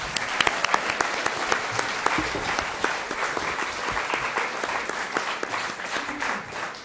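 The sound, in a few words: applause for student performers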